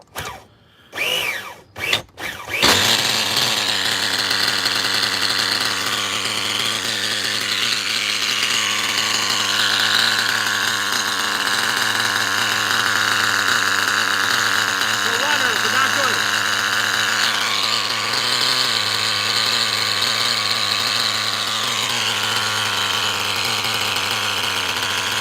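A heavily modified buggy engine of unknown brand runs steadily at a low idle after a carburetor adjustment, a constant loud drone lasting nearly the whole stretch after a few brief bangs at the start, with talk over it.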